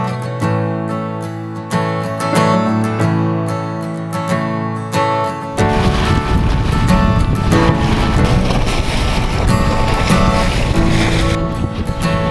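Sailboat under way at sea heading for an overnight passage toward the Bahamas, with music playing at first, then loud wind and water rushing steadily against the hull.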